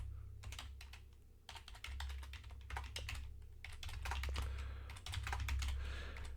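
Data is typed into an Excel spreadsheet on a computer keyboard, a quiet, close run of rapid uneven keystrokes with short pauses between bursts, over a low steady hum.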